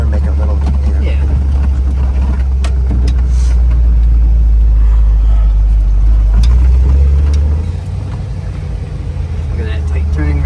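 A 1961 Chevrolet Corvette with a 283 V8 and four-speed rumbles loudly and steadily as it drives and makes a turn. The deep engine note shifts and drops near the end, and people talk over it from inside the car.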